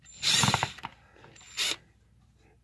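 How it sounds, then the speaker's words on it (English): A Ryobi Quiet Strike impact driver runs in two short bursts, a whirring mechanical rattle near and fairly loud, separated by a quiet pause, with no talking. "I'm trying out my my new Quiet Strike Ryobi."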